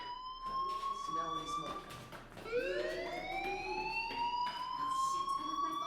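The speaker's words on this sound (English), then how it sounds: "do you hear that fire alarm? That means you should be outside." A fire alarm in the video game Life is Strange, a loud rising and falling electronic siren tone that wails continuously and sweeps upward, with faint speech underneath.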